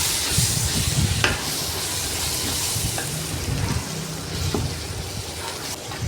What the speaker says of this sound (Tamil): கொஞ்சம் நேரம் வதங்கட்டும்